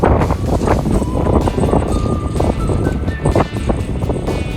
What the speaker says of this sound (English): just really windy.